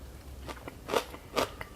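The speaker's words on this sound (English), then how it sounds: "Hear that crunch? Those are the little purple sections on the spinach root." Crunchy bites and chewing of a tofu-dressed spinach root salad with carrot and shirataki noodles (shiraae), heard close up as a few sharp crisp crackles in irregular bursts, without any talking.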